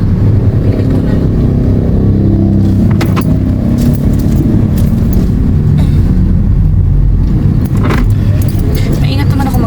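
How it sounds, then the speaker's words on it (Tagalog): A car drives along a road at night, its engine and road rumble loud and constant from inside the cabin, with a jangling of keys and people talking over it. "Maingat naman ako mag-drive."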